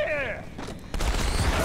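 Gunfire and explosions in the video game Halo 2 Anniversary, with a sharp burst midway giving way to loud, continuous rumbling blasts and shots. Speech-like sounds occur early on.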